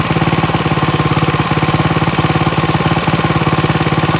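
Coleman CK100 go-kart engine running at a steady idle after a carburetor change, a loud, close, even chugging pulse with a regular rhythm throughout and no talking.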